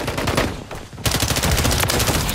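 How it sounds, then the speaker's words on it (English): Rapid automatic gunfire in a Call of Duty match set in Urzikstan, loud dense bursts of shots that pause briefly and then resume in a heavier volley. "They're shooting at that shit."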